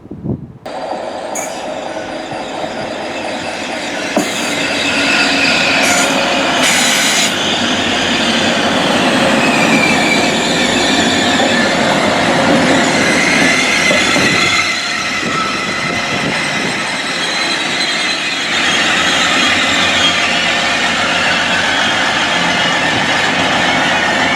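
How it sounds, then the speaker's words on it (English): A passenger train rolls in and slows at a platform at a station on the Calder Valley line, wheels rumbling and squealing, with clattering rail noise and a steady mechanical hum throughout. "that's the next train to arrive to stop here at Grand Central going to Bradford Interchange"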